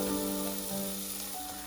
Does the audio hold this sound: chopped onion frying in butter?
yes